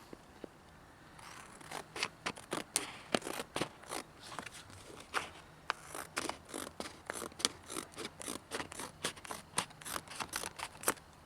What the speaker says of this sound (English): Take a pair of scissors, cut it out.